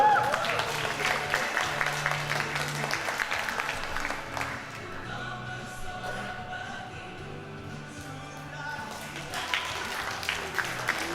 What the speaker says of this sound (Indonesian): Tepuk tangan dong sekali lagi buat Koyul.